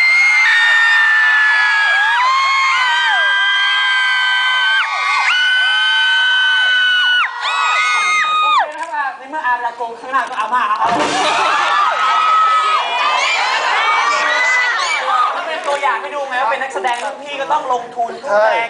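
A crowd of fans of a singer screams and cheers in high, sustained shrieks, loud and close, with voices talking through the noise.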